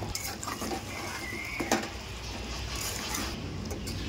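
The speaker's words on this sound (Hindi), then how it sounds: "अब इसे मैं अच्छे से मिक्स कर देती हूँ ताकि बालूशाही के अंदर तक चाशनी" A spoon stirs balushahi sweets through sugar syrup in a pan, giving soft sticky scrapes and occasional clinks against the metal, close and continuous.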